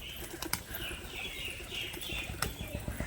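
A Bali pigeon takes off with quick bursts of wing flapping, faint and close, over a quiet outdoor background.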